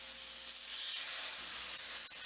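Steady broadband hiss and sizzle of special cuts of meat searing in an already very hot cast iron skillet, continuous and fairly close with a couple of brief clicks, no talking.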